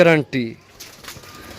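A blue pigeon coos in a short burst of low, warbling calls near the start, followed by quieter background noise with faint rustling.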